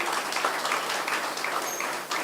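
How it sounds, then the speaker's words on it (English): Audience at the Golden Drum Awards ceremony gives a round of applause, a dense patter of many hands clapping in a hall, moderately loud and even, stopping abruptly at the end. "give a round of applause to the staff of the Cultural Division for a job well done"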